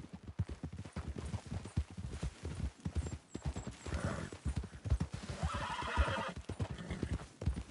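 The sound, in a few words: horse galloping, clip-clop hooves in video game Red Dead Redemption 2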